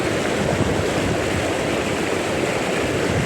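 Wind roars steadily across the microphone, a constant broadband rush mixed with what sounds like rushing water, with no voices.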